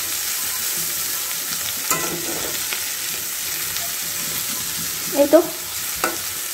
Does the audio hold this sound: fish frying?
yes